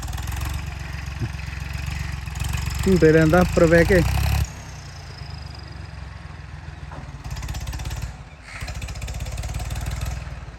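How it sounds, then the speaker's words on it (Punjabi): A tractor engine chugs steadily at idle, a low continuous mechanical throb; a person speaks briefly over it and the engine note drops partway through. "ਆਵਾਜ਼ ਬਹੁਤ ਸੋਹਣੀ ਬਣਦੀ ਵੀ ਟਰੈਕਟਰ ਦੀ"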